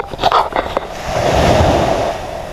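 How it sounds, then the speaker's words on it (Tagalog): Ocean waves washing onto a shore at a beach campsite, a broad hiss of surf that swells after a few gusty bursts, with wind buffeting the microphone. "Yung ramdam mo yung tunog ng mga alon, hampas ng mga alon sa baybayin."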